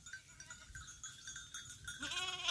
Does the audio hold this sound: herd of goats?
yes